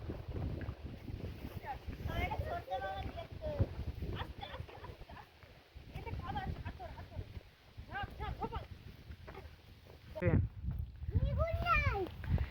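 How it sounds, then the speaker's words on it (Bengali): Strong wind buffeting the microphone in low rumbling gusts while people talk throughout. "বিশাল হাওয়া দিচ্ছে এদিকে বল"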